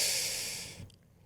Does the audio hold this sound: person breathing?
yes